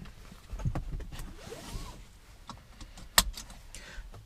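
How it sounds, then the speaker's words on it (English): Seatbelt going on inside a BMW i3 Rex: quiet rustling and a belt webbing sliding, then a single crisp latch click, close and fairly faint, with no talk. "Alright, I'll just put my seatbelt on."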